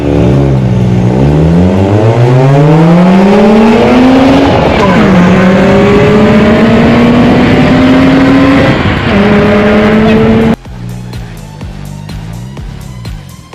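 A car at a California car meet revs hard and sets off exhaust flames, its engine note climbing through several rising sweeps before cutting off abruptly, loud and close.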